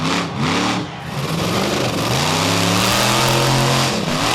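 The Black Stallion monster truck spins donuts on a straightaway at a Waverly monster truck show, its engine revving hard in a loud, continuous, rising roar after a brief opening surge.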